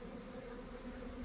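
Honeybees at an apiary on a sunny spring day fly out of the hive for their cleansing flight, a close, steady, dense buzzing drone with no voices.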